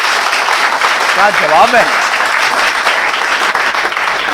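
Audience applause at a Hindi kavi sammelan poetry recital, dense steady clapping filling the whole stretch at full loudness, with a voice speaking briefly over it near the middle.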